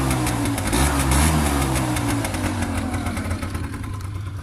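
A scooter engine with a rusty exhaust pipe runs steadily up close, a loud, rough idle with throbbing low-end pulses that swell slightly and then ease off.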